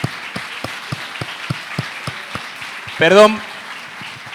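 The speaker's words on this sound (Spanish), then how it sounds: "Aplaudamos a Clara." Scattered claps from an audience at a book fair presentation by an author, a few separate hand claps spaced out, then a brief burst of speech from a voice near the microphone.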